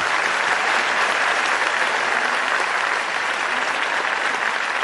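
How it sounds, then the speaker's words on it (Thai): Studio audience applause on a Thai luk thung singing contest, dense and loud continuous clapping from a large crowd that holds steady the whole time. "ขอเสียงปรบมือเป็นกำลังใจ"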